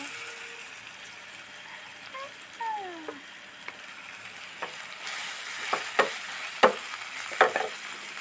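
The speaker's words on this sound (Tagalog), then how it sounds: "I-fry ko siya hanggang mag-brown siya." Onion and food seasoned with sauce powder frying in a pan until browned, a soft low sizzle with a few light utensil clinks and scrapes that grow a little sharper toward the end.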